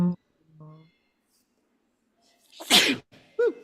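A single loud, close sneeze bursts out after a brief quiet stretch, framed by short bits of nearby speech before and after.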